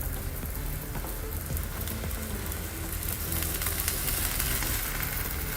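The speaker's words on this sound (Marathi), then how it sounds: "आता ह्याला दोन्ही बाजूनी छान असं खरपूस भाजून घ्यायचे" A vegetable pancake fries until crisp on both sides in a pan, giving a dense, even, rain-like sizzle that stays steady throughout and grows slightly louder near the end, with no talking.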